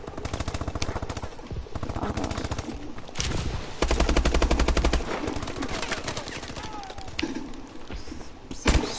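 Rapid automatic gunfire from the video game Call of Duty: Advanced Warfare, dense repeating bursts of shots with heavy thuds in between, loud and continuous throughout.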